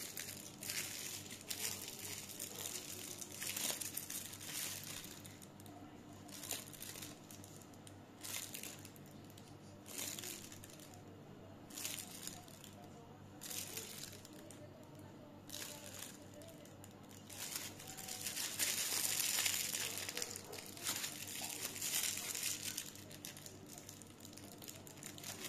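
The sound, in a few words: plastic piping bags being handled and crinkled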